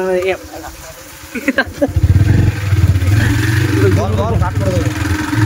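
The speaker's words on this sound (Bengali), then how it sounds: "ওই যে একটা বাইক" A motorcycle passing on a rain-soaked, rough village road, its engine rising to a loud close rumble and holding as it goes by, while people talk over it.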